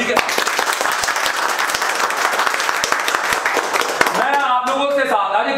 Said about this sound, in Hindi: सबसे पहले जोरदार ताली करेंगे इस शुरुआत के साथ में, जोरदार ताली के साथ।